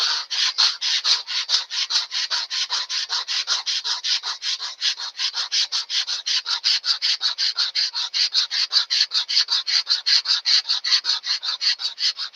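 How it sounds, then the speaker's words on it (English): Hand sanding wood on a Twin Sig build: steady rhythmic back-and-forth rasping strokes, about four per second, close and loud, continuing evenly without any voices. "hand sanding is the way to go"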